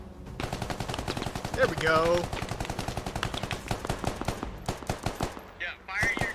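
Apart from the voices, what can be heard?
gunfire in the video game Squad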